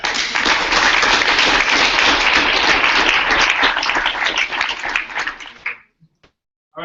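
Loud, dense audience applause at a conference session, steady clapping for about six seconds that stops abruptly, followed by near silence and a couple of faint knocks.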